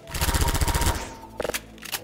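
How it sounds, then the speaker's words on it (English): Mounting a turret in Half-Life 2 brings a loud, rapid mechanical rattle lasting under a second, then a few quick clanking clicks and a final short metallic knock. "Another example is mounting turrets."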